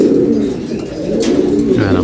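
Pigeons in a Moroccan fancy-pigeon loft coo steadily and close by, with low, throaty, overlapping coos running through the whole stretch alongside faint rustling.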